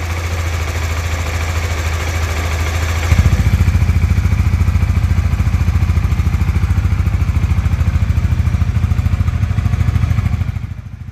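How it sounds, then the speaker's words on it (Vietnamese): A Honda Winner X 2022 motorcycle engine runs steadily up close, a loud continuous idle with a low rhythmic throb that deepens partway through, then fades slightly at the end. "Tiếng máy khi mà bịt vô vào này"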